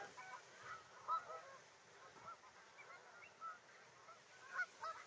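Distant Canada geese honking now and then over a steady wash of wind and open-air background during a nature walk.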